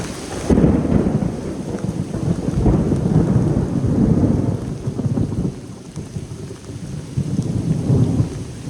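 A thunderstorm rolls over a long-distance hiking trail, deep rumbling thunder swelling and fading in long waves beneath steady heavy rain, loud and close, with no voices.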